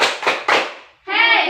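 Three sharp, loud hand claps from a grade-four Indonesian classroom doing the tepuk semangat chant, followed at once by children shouting in unison.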